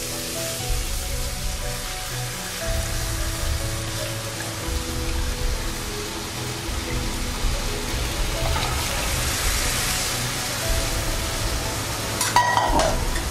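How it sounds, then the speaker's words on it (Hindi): A white sauce of flour, milk and water stirred in a pan on a low gas flame, giving a steady wet scraping and bubbling for the whole stretch, with a few sharper clinks near the end. "अब इसको हम थिक होने तक, व्हाइट सॉस बनने तक हम इसको अच्छा चलाएंगे"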